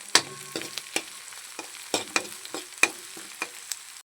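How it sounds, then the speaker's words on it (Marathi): Chopped onion being sautéed and stirred in a pan while making upma, with a soft background sizzle and repeated sharp clicks of a spoon scraping the pan, close by and steady. "कांद्याचा कलर बदलेपर्यंत आपण ह्याला परतून घेऊ"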